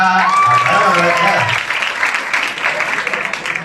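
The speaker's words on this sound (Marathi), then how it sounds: "टाळ्या वाजवा." Loud crowd applause at a college cultural association inauguration builds into sustained clapping, with a voice over it near the start.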